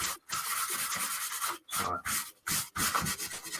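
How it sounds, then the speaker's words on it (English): Painted foam gets a quick sanding, with short rough scratching strokes in quick succession broken by brief pauses, close but fairly soft. "I actually kind of want to just like go through this with just a very quick sanding job here"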